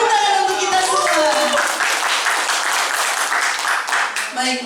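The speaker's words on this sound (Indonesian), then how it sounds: "Tepuk tangan untuk kita semua." Audience at a school training session applauding, clapping layered under and after voices cheering, continuing steadily to the end.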